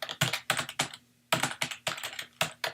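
Bursts of rapid clacking come from typing on a computer keyboard, close and clear. Two quick runs of keystrokes are split by a short pause, with no voices.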